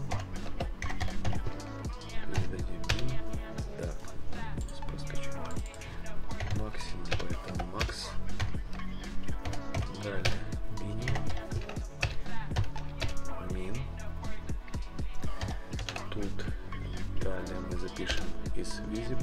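Rapid keyboard typing while writing Flutter slider code on a computer, with steady clusters of light clicks running under continuous background music.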